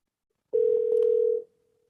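A single steady phone ringing tone, one clear electronic burst lasting about a second, then silence.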